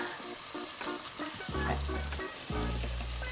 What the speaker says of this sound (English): So we've added our onions, we've added the garlic. Cooking, saute for a minute.